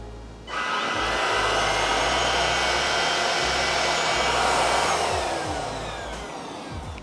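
An Oraimo Stick cordless vacuum cleaner switches on with a click and settles into a steady, loud, airy whine and rush that holds for several seconds before easing slightly, running close with no talk over it.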